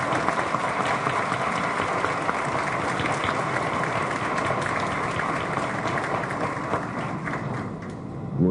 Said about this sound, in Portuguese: encerro minhas palavras pedindo mais uma salva de palmas para ambas as